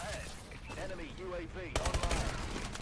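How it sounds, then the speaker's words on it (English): Shotgun fire in Call of Duty: Advanced Warfare multiplayer: a loud burst of rapid gunshots after a stretch of a voice talking. "And we get shotgunned."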